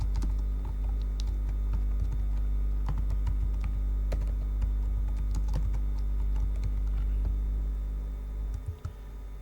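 Typing on a computer keyboard into Microsoft Word, a steady run of quiet, close key clicks over a constant low hum, with no talking.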